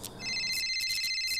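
A telephone rings in the video game Five Nights at Dolma's, an electronic warbling ring pulsing in quick bursts, clear and close with nothing else over it.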